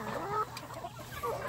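Indio Gigante chickens on a free-range farm, clucking softly with several short, scattered calls over quiet outdoor background.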